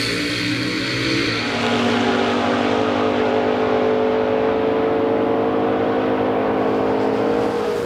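Drag racing cars launch down the strip with a loud, sustained engine roar that builds and holds steady, one driver lifting off the throttle and braking near the end to avoid breaking out.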